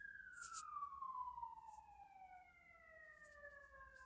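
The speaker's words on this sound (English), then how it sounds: "phone has heard a siren in the background" A police-style emergency siren wails in the distance, a long descending tone that stays faint and steady in the background, with no one speaking.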